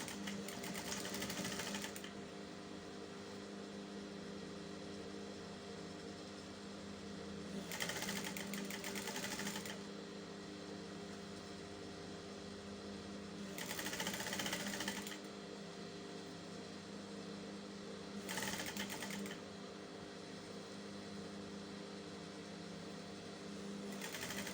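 Sewing machine stitching the neck of a flared shift dress to its facing, in four short bursts of rapid close whirring, separated by quiet pauses with faint handling.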